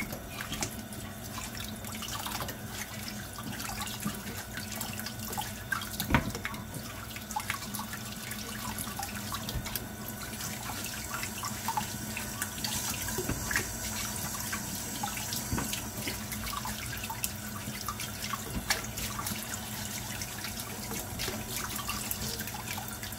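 Tap water runs steadily into a kitchen sink during dishwashing, a quiet continuous stream with scattered drips and light clinks throughout.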